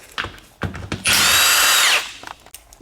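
A power tool whirs in one loud, close burst lasting about a second while bolts come off the differential of a Nissan 240sx with a 2JZ swap, with a few clanks and knocks before and after.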